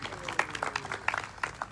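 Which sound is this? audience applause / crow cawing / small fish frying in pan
audience applause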